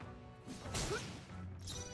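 An ice-powered Shatter skill attack in the role-playing game Metaphor: ReFantazio lands as a single crashing, whooshing burst in the middle, with a shorter swish just after, fairly faint against the backing.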